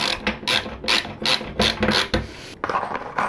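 A screwdriver turns a screw into an IKEA Malm under-bed storage frame in short, rhythmic ratcheting bursts, close and crisp, with brief pauses between twists.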